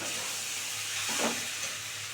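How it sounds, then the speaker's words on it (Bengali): Chowmein stir-frying in a home kitchen pan gives a steady soft sizzle, with a brief louder swell of hissing and stirring partway through. "আর একটু ভাজা ভাজা করে তারপরে ডিমটা দেবো"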